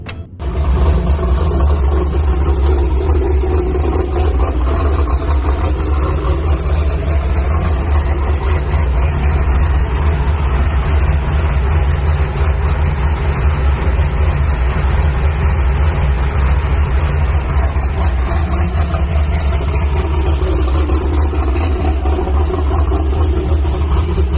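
Race car engine at a drag-racing test-and-tune day, a loud, steady close idle with a heavy low rumble and rough mechanical texture that runs the whole way through without pause.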